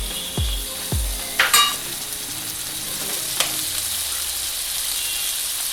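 Paneer being fried in a kadhai for kadhai paneer: a couple of soft thuds and brief clatters at the start, then a steady, faint sizzle and hiss that continues alone throughout.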